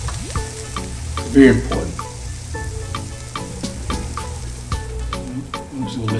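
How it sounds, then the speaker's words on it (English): Peppers and onions frying in a hot pan for a chicken Philly cheesesteak crackle and sizzle loudly and close, with regular stirring scrapes and a brief spoken remark over them. "I'm just gonna let this saute like so."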